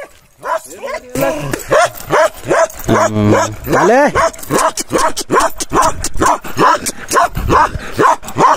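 A Bhote dog barks repeatedly and aggressively nearby, with snarling growls and whimpering yelps in between, loud and agitated.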